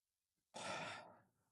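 A single long, deep exhalation during a calming breathing exercise for anxiety, a breathy rush that starts abruptly and fades slowly over about a second, heard alone and close.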